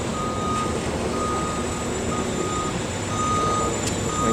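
A truck at a Los Angeles water recycling facility construction site gives steady, evenly spaced reversing beeps, moderately faint above a constant rumble of engine noise and site clatter, with no talking.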